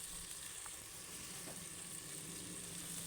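Green chilies sautéing in a pan for a Tamil aviyal kootu make a steady, quiet sizzle and crackle of frying oil that runs evenly throughout, with no talking.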